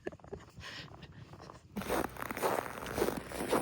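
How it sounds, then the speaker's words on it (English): Footsteps crunch on cold, frozen snow on a winter farm in the Maritimes, starting as quiet scattered crunches and turning into louder, steady close crunching in the second half. "It's so cold, but the snow is crunchy."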